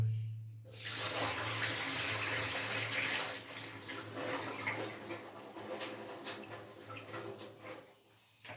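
Water pours steadily from a tap into a saucepan of rice, a continuous splashing rush lasting several seconds before it tapers and stops.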